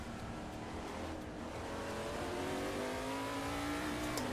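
An LMP3 prototype race car in the Assetto Corsa racing game during an online race: a steady engine drone that climbs in pitch as the car accelerates, with faint tire noise and no voices.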